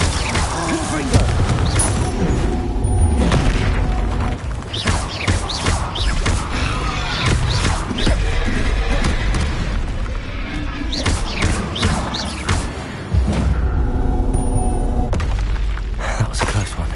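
In Hogwarts Legacy combat, a Confringo spell's explosions mix with repeated booms, crashes and shattering impacts. The dense, loud clatter continues throughout, with voices calling out over it.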